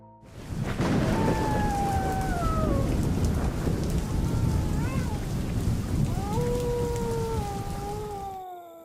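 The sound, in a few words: heavy rain with thunder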